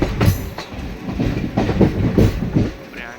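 Krishna Express, an Adilabad to Tirupati train with brand-new LHB coaches, rolls along in a steady rumble with a regular clickety-clack of wheels over rail joints, close and fairly loud throughout.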